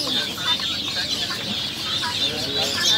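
Chickens cluck in short, repeated calls over a steady background hiss, fairly close and at moderate volume, with no talking over them.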